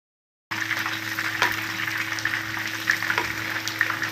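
Corn simmering with seafood in a pot makes a continuous low bubbling and crackling hiss after a brief silence, with occasional louder pops, close and moderately quiet.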